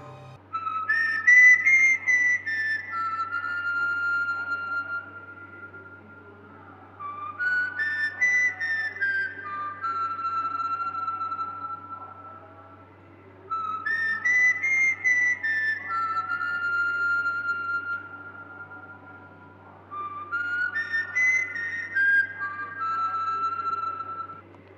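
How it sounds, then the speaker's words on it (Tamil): A melodic whistled tune repeats in four phrases of wavering, sustained notes, clear and fairly close, with a steady low hum beneath and short pauses between phrases. "பார்த்தா விசில் சவுண்ட் மட்டும்தான் கேட்குது."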